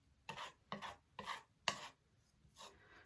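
A spatula scrapes and spreads paint across a sideboard being restyled, five short rasping strokes in an uneven rhythm, close and alone.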